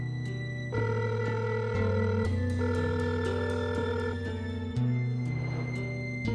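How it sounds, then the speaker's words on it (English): Telephone dialing then ringing in an animated horror story, steady tonal phone tones in long repeated segments with a musical backing, loud and close, no speech. "I picked up the phone and dialed her number."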